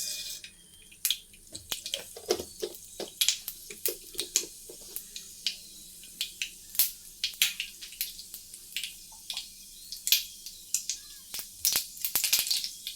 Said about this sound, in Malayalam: എണ്ണ ചൂടായിട്ട് നമുക്ക് കടുക് ഇട്ട് കൊടുക്കാം കേട്ടോ